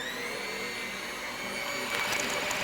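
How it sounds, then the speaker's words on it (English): Vegan butter being creamed in a bowl with an electric mixer, a steady close whirring motor hum that grows slightly louder and harsher near the end, with no talk. "now I am supposed to mix it until it gets creamy"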